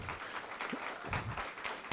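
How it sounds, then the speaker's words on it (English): An audience claps in a room, with brief, scattered applause throughout and no voice over it. "give a round of applause for yourselves, everyone in the room"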